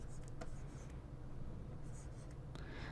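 A pen or pencil writes out a number on paper in soft, close scratchy strokes, a few brief squeaks against steady low background noise.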